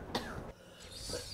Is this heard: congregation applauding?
no